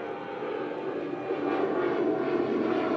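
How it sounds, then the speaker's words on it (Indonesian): An airplane passes overhead, a steady droning engine roar that swells slightly over a few seconds, heard at a distance with no voices. "Ih, ada suara pesawat."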